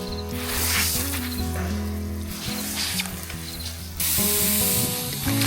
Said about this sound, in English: Even the leak in the hose is beautiful.